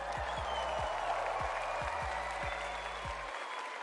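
Applause from a crowd at a Fortnite event holds steady for several seconds at a moderate distance, with rhythmic thumps beneath it before it cuts off.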